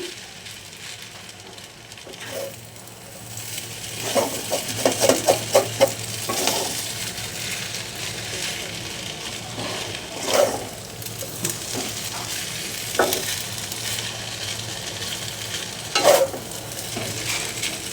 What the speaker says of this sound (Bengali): একটু উপর নিচ করে মিশাই দিচ্ছি